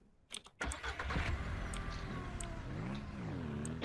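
Vehicle engine cranking and catching in Ranch Sim, a few clicks and a short starter burst followed by a steady idle rumble, close and moderately loud.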